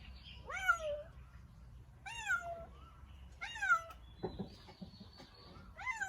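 A one-year-old cat outdoors on bare ground for the first time meows four times at fairly even intervals, clear and moderately close over a low background rumble.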